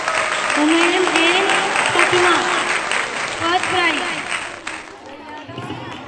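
Applause for children at a school prize distribution ceremony fills the clip, dense and steady from a crowd, while an announcer speaks over it and the clapping thins toward the end.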